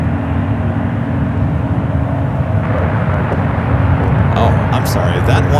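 An airliner taxiing toward the gate at SFO airport gives a steady, heavy jet rumble close by, with a voice talking over it.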